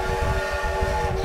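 Train rumbling steadily in the WWII shooter Sniper Elite V2, a continuous low mechanical drone with a held horn-like tone running throughout, no voices.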